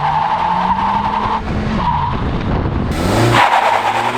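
Loud, close tire squeal and engine roar from an Acura Integra with 200 horsepower launching hard from a standstill, the howl rising in pitch and shifting partway through, with no talking.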